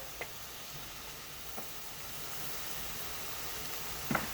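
Vegetables with corn beef sizzle in oil in a pan, a steady hiss of frying with a few soft ticks and a light clatter near the end, with no one talking.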